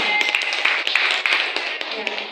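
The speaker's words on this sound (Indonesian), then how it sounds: "tepuk tangan" A group at a teachers' training session claps after a question, a brief thin burst of scattered taps and claps over a couple of seconds, heard through a narrow, call-like channel.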